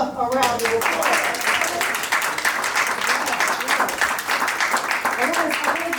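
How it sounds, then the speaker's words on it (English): Sustained crowd applause fills an awards ceremony hall at a scholarship program for high school graduates, dense and loud throughout, with a voice speaking briefly at the start and end. "Give yourselves a round of applause."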